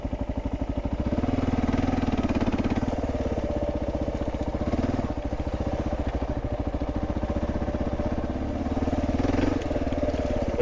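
A Kawasaki KLR650 motorcycle rides slowly along forest trails, its single-cylinder engine thumping in a steady low throb close by, swelling and easing slightly with the throttle throughout, with no talk.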